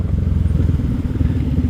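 A Minerva motorcycle engine running on a Sunday morning ride through mountain bends, a loud, close, rumbling low drone with rapid, uneven pulsing and a slight rattly edge, continuous and without any talking.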